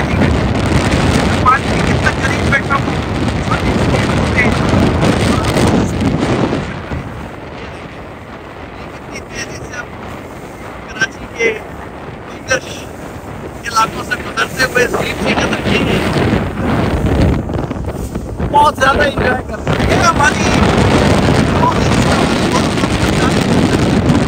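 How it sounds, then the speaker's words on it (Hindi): A small speed boat racing fast across the open sea, heard as a loud, steady roar of wind buffeting and engine noise that eases to a quieter stretch in the middle before surging back up, with thuds and bumps throughout. "हम इतनी स्पीड में, इस छोटी स्पीड बोट में जा रहे हैं"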